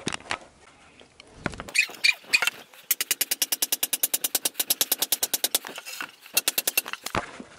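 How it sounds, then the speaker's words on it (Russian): A thick square wooden corner stake is driven into the ground in a greenhouse with a long run of rapid, evenly spaced hammer blows, sharp and fairly close, after a few scattered knocks. "Сделал колышек угловой, специально вот такой мощный, квадратный. Сейчас буду забивать его."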